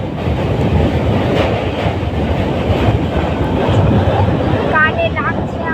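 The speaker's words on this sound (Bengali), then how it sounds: "তারপর ব্রিজটা একবার আওয়াজ শোনো তোমরা জাস্ট।" A train rattles across a railway bridge, heard from on board as a loud, continuous metallic rumble and clatter, with brief high squeals and a voice calling out near the end.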